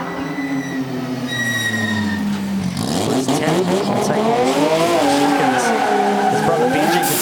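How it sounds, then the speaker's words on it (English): Tyres of a drift car, a Toyota GT86 at a drift competition in a stadium, squeal loudly and continuously with wavering pitch over engine roar, while a commentator talks. "But Ben Jenkins certainly putting on a great drive"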